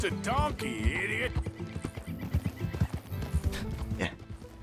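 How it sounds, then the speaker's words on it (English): A donkey in Red Dead Redemption 2, a harsh bray near the start followed by steady hoof clopping and game ambience at a camp. "It's just a donkey"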